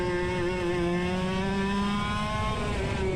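A go-kart engine holds a steady, buzzing drone during a kart race, its pitch drifting slightly as it keeps running, heard close and continuous with no talk.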